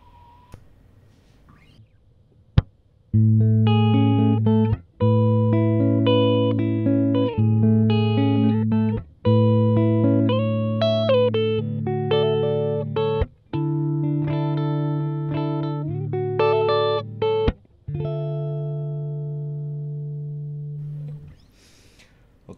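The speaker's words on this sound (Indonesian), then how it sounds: "Selanjutnya, Fender Twin Reverb." Electric guitar played through a Valeton Dapper Amp Mini modeling a Fender Twin Reverb amp, loud sustained chords and ringing notes in several phrases with brief pauses, slightly reverberant, no talking.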